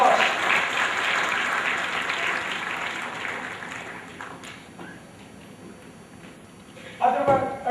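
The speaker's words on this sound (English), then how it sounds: "Give him a round of applause" Audience applause at a corporate CEO conference as a vice chairman is called on stage, a broad wash of clapping that slowly fades over several seconds before a louder sound near the end.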